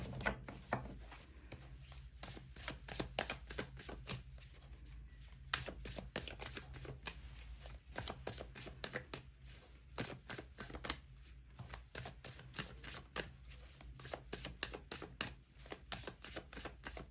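Tarot cards are shuffled and drawn in a quick, dense run of crisp riffling and slapping, continuous and close, with no talking.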